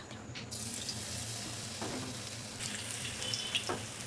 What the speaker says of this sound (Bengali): সবার আগে আমি বেগুনটা ভেজে নেব।